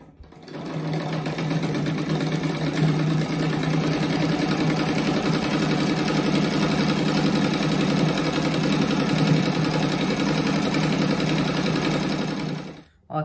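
A sewing machine stitches a fabric rug for beginners, running steadily and loudly for about twelve seconds with a constant mechanical whir and fast needle chatter, stopping abruptly at the end.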